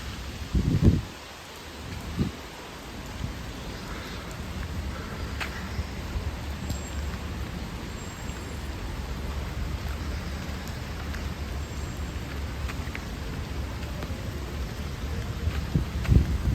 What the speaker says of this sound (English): Bits of rain will still come through, but you know, better than nothing.